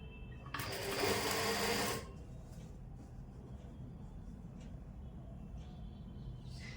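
A sewing machine stitches a kurta sleeve in one loud, rapid whirring burst of about a second and a half, then stops, leaving quiet room noise.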